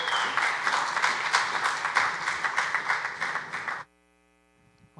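Audience applause at a trade and investment forum panel: dense, steady clapping from a full room that cuts off abruptly, leaving near silence.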